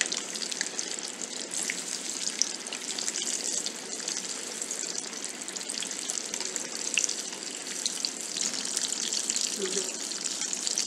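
Fish fillets frying in medium hot oil, giving a steady, dense crackling sizzle that holds at an even level throughout without pause.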